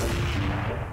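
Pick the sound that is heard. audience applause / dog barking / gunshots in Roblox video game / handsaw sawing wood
gunshots in Roblox video game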